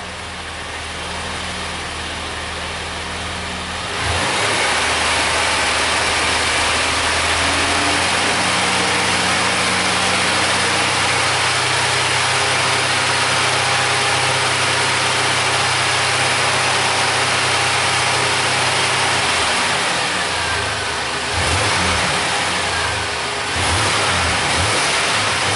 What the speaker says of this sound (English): So let me go give this thing some throttle.